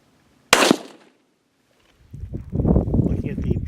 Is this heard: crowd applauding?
no